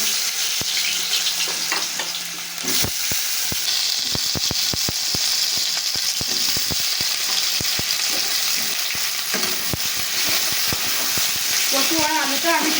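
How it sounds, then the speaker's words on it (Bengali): Taro and potatoes fry in hot oil, with a loud, steady sizzle throughout and frequent sharp clicks and scrapes from stirring. "এবার আমি গরম তেলের মধ্যে কচু আর আলুগুলো দিয়ে দিচ্ছি"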